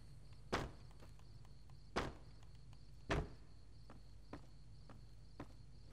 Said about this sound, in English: Footsteps are very, very, very, very loud in this.